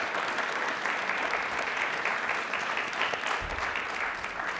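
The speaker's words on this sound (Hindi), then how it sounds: "एक बार वापस से अपने लिए तालियां जोरों से शोरों से बजाएं प्लीज" Audience at a televised quiz show applauds itself, steady, loud, continuous crowd clapping lasting throughout with no voices.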